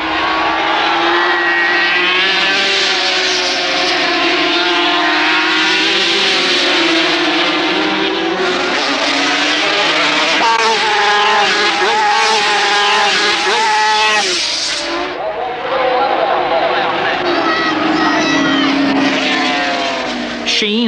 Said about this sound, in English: Once again, Sheene slipstreams the American down the back straight, but this time outbreaks him at the S's to take the lead